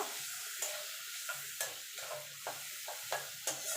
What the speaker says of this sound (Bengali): এবার এটাকে একটুখানি কষিয়ে নেব